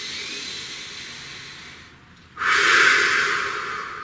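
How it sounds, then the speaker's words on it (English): A single deep breath, heard as a faint, quiet stretch followed by a loud, close, airy inhale lasting over a second, with no speech. "Please take a nice deep breath"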